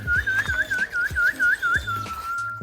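A person whistles a repeated rising, chirping call to summon Seychelles magpie robins on a small island, about ten clear, close whistled phrases in quick rhythm ending in one longer steady note, imitating birdsong.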